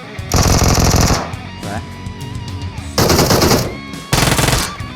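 An UMP submachine gun in PUBG Mobile fires in three loud, rapid automatic bursts, each a dense rattling stream of shots, with game noise between them.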